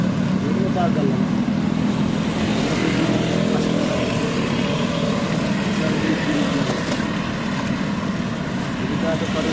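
Motorcycles and other vehicles passing on a road at night: a continuous loud engine rumble and road roar with someone talking over it throughout.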